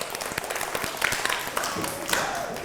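A gallery of children in a weather-themed group claps briefly, scattered hand claps over a background hum with some voices around.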